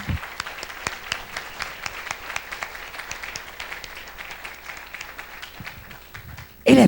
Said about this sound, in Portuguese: Vamos aplaudir esse Deus.